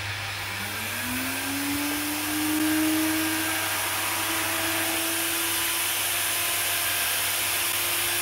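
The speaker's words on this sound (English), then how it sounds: "You can stop the vacuum cleaner." A vacuum cleaner runs continuously, pulling suction on a steel handpan shell, a loud steady drone whose motor pitch rises and settles as the suction builds, with no one speaking.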